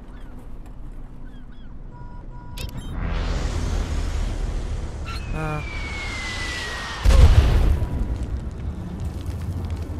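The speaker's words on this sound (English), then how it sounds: "Carpet bombs again?" Carpet bombs land in the video game Worms WMD as a rising rush of broadband rumble ending in a heavy booming blast, with a whistling tone in the middle and game noise around it.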